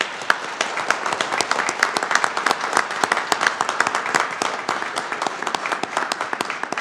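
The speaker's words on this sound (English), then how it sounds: "So can we give them a round of applause too?" An audience at a city council meeting claps steadily throughout, a dense patter of many hands that stays even and fairly loud, with no speech over it.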